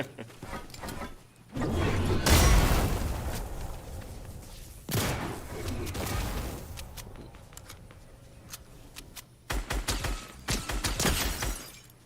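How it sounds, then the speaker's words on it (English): Fortnite video game gunfire during a competitive match: loud bursts of shots and impacts, with a heavy blast around two seconds, another near five seconds, and rapid clustered shots toward the end. "Shots fired"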